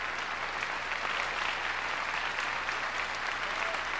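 Concert hall audience applauding after a Chopin Piano Concerto No. 1 in E minor performance with the Cincinnati Symphony Orchestra; dense, steady clapping fills the whole stretch at moderate distance, with no voices on top.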